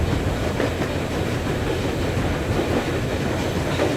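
Train riding on a railroad in the video game Metro Exodus, a loud continuous rolling rumble with faint rhythmic clickety-clack of wheels, steady from start to end without voices.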